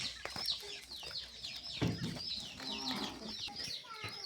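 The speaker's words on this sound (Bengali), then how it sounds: "এই কোয়েল পাখিগুলো জাপানি জাতের কোয়েল পাখি।" Thirty-day-old Japanese quail chicks kept for eggs, a dense flock of overlapping high chirps and peeps with soft fluttering, close and continuous.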